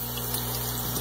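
A water pump hums steadily as it feeds a one-inch line into a fish tank venturi aeration setup, a constant tonal drone with rushing water beneath, close and unbroken.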